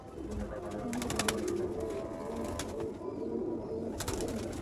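Sialkoti pigeons, black-faced birds of the Sheikh strain, cooing steadily and fairly close, with repeated low throaty coos overlapping throughout and no talk.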